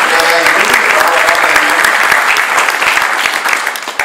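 An audience claps for an invited guest from Haiti at a talk, producing dense, sustained applause that fades slightly toward the end, with a voice briefly audible underneath at the start.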